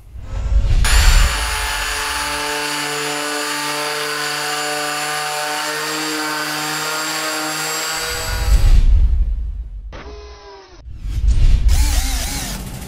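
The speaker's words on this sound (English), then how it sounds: "That is the ROK Orbital Sander." A ROK 200W orbital sander runs with a loud, steady mechanical whine, then winds down and stops. It starts up again twice in quick succession, rising back to full speed near the end.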